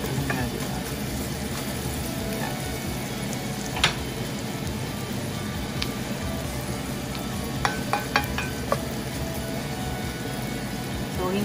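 Onion sautés in butter in a pan while mussels are cooked, a constant close sizzle with scattered sharp clicks of utensils against the pan, and some low speech in the background.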